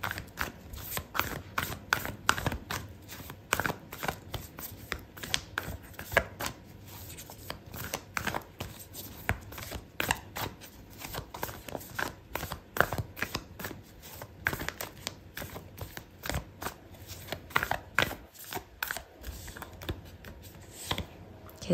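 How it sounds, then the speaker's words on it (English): Oracle cards being shuffled by hand before a tarot-style card pull, a steady run of soft, close riffling and tapping clicks that goes on for about twenty seconds with no talking. "I'm gonna pull out an oracle card for you"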